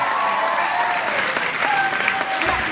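Crowd applause at a high school battle of the bands, dense continuous clapping with a few whistles and cheers rising above it.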